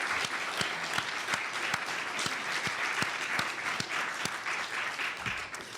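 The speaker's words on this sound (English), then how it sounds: "we really should properly give Michelle Connolly a round of applause" An audience at a telecom policy conference applauds Michelle Connolly, sustained even clapping from a seated crowd throughout, steady and fairly close, with no speech over it.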